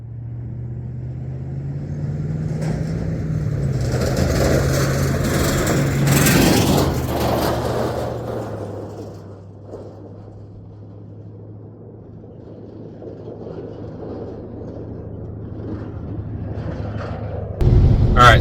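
A truck towing a trailer drives along the road, its engine holding a steady low drone with a louder surge partway through, then settling into a continuous rumble of road noise.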